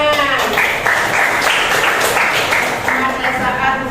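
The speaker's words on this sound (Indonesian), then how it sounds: "Bagus, tepuk tangan." Applause from a class at a school, steady dense clapping from many hands filling the whole stretch, loud and close, with voices mixed in.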